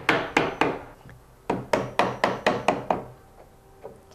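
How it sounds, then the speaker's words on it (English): A hammer strikes a wooden canvas stretcher frame in sharp, close blows: three quick knocks, a pause, then a rapid run of about seven more, followed by a few fainter taps. "you want to keep hammering it in and adjusting it until you get a square"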